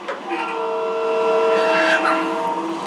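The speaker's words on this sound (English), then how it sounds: "Let's blow the horn." A train horn sounds inside a tunnel from the cab of a locomotive, a loud sustained multi-tone chord holding steady for nearly three seconds over engine rumble.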